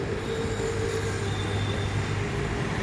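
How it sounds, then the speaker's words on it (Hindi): Steady rumble and rolling of a metro train running close by, continuous and loud for the whole stretch with no speech. "चलते देखो हमारा मेट्रो यहाँ पे।"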